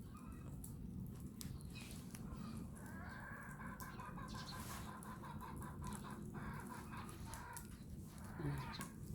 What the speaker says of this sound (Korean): 청개닭이 알을 낳으려고 하는지 구구구거리네요.